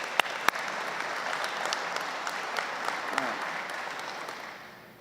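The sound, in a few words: audience applause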